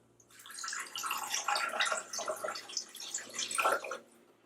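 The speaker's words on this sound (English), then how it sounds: "But we're going to add water" Water poured into an Instant Pot already packed full with chicken bones for broth, a steady splashing pour lasting about four seconds, close and fairly loud, with no talking.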